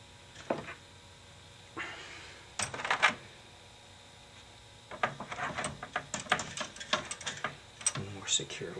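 A heatsink is refitted onto the processor of a PowerMac G4 MDD 1.25 GHz logic board, giving close, quiet metallic clicks, taps and scraping handling sounds in scattered bursts.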